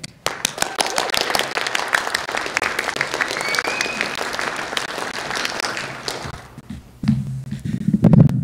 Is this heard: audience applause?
yes